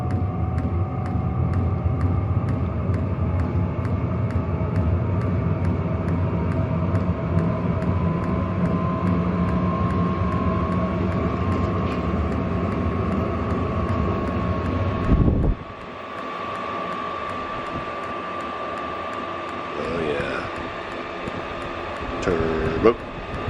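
An Hcalory diesel heater runs outdoors on its first burn-off of manufacturing oils, giving a steady loud droning roar with a constant tone that drops abruptly partway through to a quieter hum, with faint clicks near the end.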